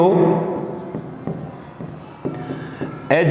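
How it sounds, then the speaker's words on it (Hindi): Marker or chalk scratching across a classroom board during a maths lesson on circles, heard as short rubbing strokes in quick succession while a teacher talks over them. "हम यहां लिखेंगे"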